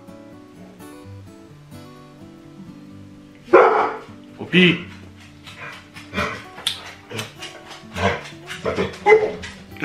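A house dog barks indoors in a family home, a string of sharp, close barks starting a few seconds in and repeating irregularly, mixed with people talking and some clattering in the background.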